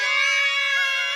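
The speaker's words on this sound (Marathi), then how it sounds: "ओरडू नका, किती आवाज आहे." Children in a housing society shout together in one loud, high-pitched, sustained cry at close range, filling the short moment with no other sound.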